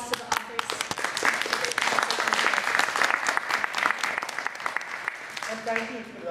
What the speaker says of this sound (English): let's give a round of applause to the authors